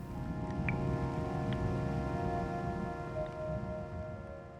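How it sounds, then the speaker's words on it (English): Steady rain falls continuously as a dense, even wash of noise, close and moderately loud, with a few faint isolated drips standing out briefly and no voices. "the sound of consistent rainfall is white noise, which can drown out other noises"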